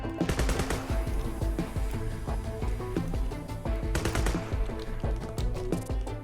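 Rapid video game gunfire, including shotgun blasts, hammers away continuously and loudly, dense overlapping shots with brief flurries of sharper cracks and no speech over it.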